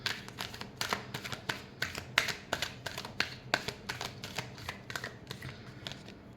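Tarot cards shuffled by hand in a steady run of soft riffling flicks and taps, close and fairly quiet, with no talking over them.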